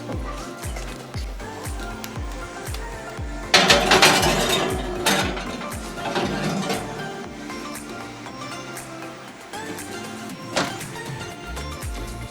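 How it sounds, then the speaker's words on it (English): Metal spoon stirring food in a cooking pot, with repeated close clinks and scrapes against the sides and a sharper clatter as the lid goes back on, continuing in uneven rhythm. "Now we're just going to stir this together, put the lid back on it"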